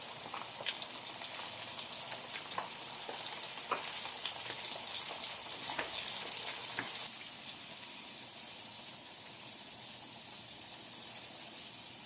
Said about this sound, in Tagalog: tara, fry na natin yan